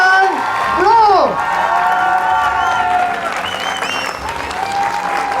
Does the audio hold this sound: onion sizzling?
no